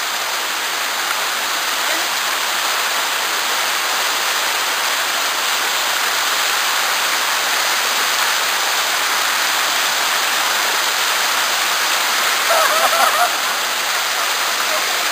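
A waterfall roars in a loud, steady, unbroken wash of rushing water close by, with a brief faint voice near the end.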